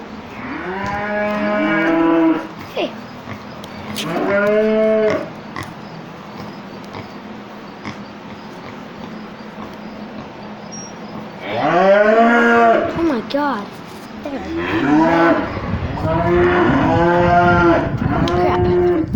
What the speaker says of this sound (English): hang on, I'll show you my goat.